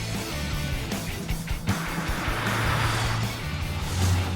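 A classic Ferrari 328 on a road test, its engine running with a steady low rumble and road noise, moderately loud and continuous, with no speech.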